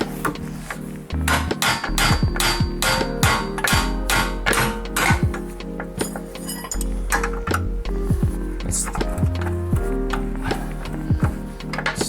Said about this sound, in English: This little baby hammer probably will be perfect.